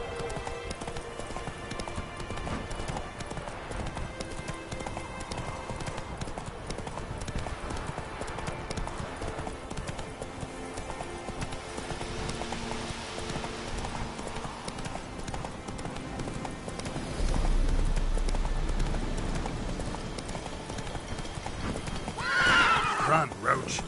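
Horse galloping in the video game The Witcher 3, hooves clip-clopping in a steady run with a whinny near the end, while someone talks over it.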